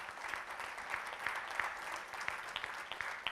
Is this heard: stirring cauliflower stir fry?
no